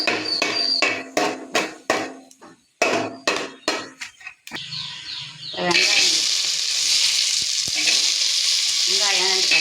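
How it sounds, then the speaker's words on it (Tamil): Cinnamon, cloves and cardamom dropped into hot ghee for quail biryani, a broad steady sizzle that swells after a run of sharp knocking taps, close and fairly loud. "பட்டை, கிராம்பு, ஏலக்காய் எல்லாத்தையும் போட்டு நல்லா வறுத்துக்கலாம்"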